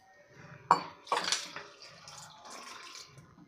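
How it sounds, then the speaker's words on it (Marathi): A bowl of water is poured into a pan holding rock sugar, giving a faint, close splash and trickle with a couple of light knocks against the vessel. "आता त्याचमध्ये आपल्याला एक वाटी पाणी घालायचं आहे"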